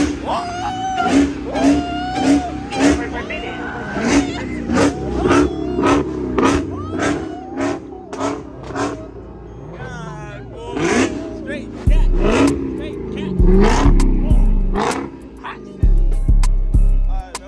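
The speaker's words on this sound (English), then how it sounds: "You hear straight superchargers." Supercharged Hellcat car engines rev repeatedly in sharp, rhythmic bursts, loud and close, with a voice talking over them and a crowd murmuring.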